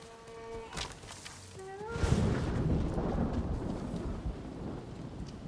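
A thunderstorm rolls in within the Ghost of Tsushima video game: a few tonal game chimes give way to a deep, sustained rumble of thunder layered over steady rain noise, with no talking.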